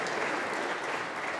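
Snooker crowd at a Masters semi-final between Mark Allen and Ali Carter breaks into dense, continuous applause, close and fairly loud throughout the short burst.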